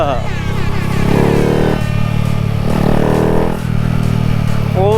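A Honda Wave 110i motorcycle's exhaust hums and drones steadily while it is ridden, with engine clatter and a rise in revs, under nearby talking.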